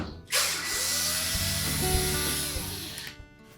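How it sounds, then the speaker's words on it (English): A powered screwdriver whirs in one continuous run for about three seconds, close by, taking out the mounting screws of a Whirlpool washer water valve, then stops. "you should be able to remove the 2 mounting screws for the old valve."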